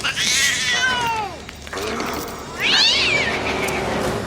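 A cat in the horror film Castle Freak yowls in two drawn-out, wavering cries, separated by a short pause, loud and close.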